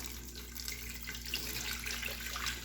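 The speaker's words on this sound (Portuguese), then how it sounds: "a gente vai colocar água até cobrir todas as nossas latinhas" Tap water runs steadily into a cooking pot holding upright cans for a banoffee dessert, a continuous moderate splashing stream close by with no talking.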